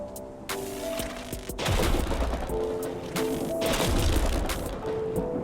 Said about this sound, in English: And this is Storm Explosion.